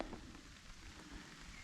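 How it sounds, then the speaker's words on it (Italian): Steady rain falling in the woods, a faint even patter of drops forming a continuous soft hiss with no voices. "Nel bosco è cominciato a piovere abbastanza discretamente"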